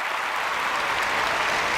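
Dense audience applause fills the room, a steady wash of many hands clapping at an even level throughout, with no voices standing out.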